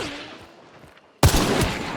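A sudden loud burst of gunfire in the video game Hunt: Showdown erupts after a quiet stretch, dense rapid shots including close shotgun fire continuing to the end, with faint game ambience before.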